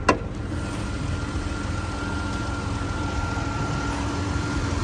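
A $650 Copart salvage car engine idles steadily and evenly up close, a low continuous rumble after a brief click at the start.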